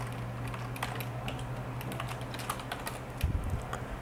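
Keys on a computer keyboard are pressed in quick clicks while working in Photoshop, with a faint steady hum underneath and a soft thump near the end.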